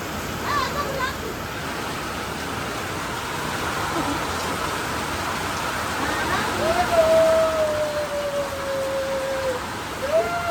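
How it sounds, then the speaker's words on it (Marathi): Heavy storm rain falling for a long spell, a broad steady wash of water noise at moderate loudness, with a faint tonal whine sliding through midway. "एक तास झालं मित्रांनो पाऊस चालूच आहे."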